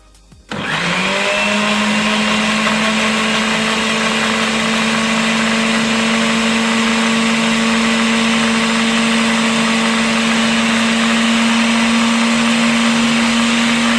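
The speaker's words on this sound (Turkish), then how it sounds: "Smoothie'mizi 1 dakika kadar mikserde çırptık" An electric blender whirs through a banana and strawberry smoothie, starting abruptly after a brief quiet and then running as a loud, steady motor drone with a constant hum for the rest of the clip.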